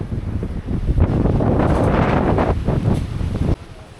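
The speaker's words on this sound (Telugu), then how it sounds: "జలపాతం విండ్ ఎంత గట్టిగా ఉందంటే బైకులు పడిపోతున్నాయి" Strong gusting wind near Thatiguda Waterfalls, hard enough to knock over parked motorbikes, roars and buffets the microphone for several seconds, then abruptly drops off near the end.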